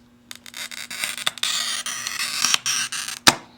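A glass cutter scores a sheet of stained glass edge to edge, producing a thin, continuous gritty scratching close up, ending with a brief sharp tick.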